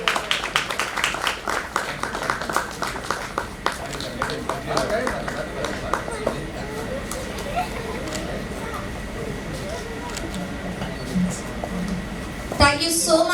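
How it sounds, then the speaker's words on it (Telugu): An audience at a felicitation ceremony claps in a burst of applause near the start, which then fades under a murmur of chatter and a speaking voice, with a sharp loud noise near the end. "అందరు గట్టిగా చప్పట్లు కొడితే ఇంకొంచెం హ్యాపీగా ఉంటుంది"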